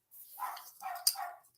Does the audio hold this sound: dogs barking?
yes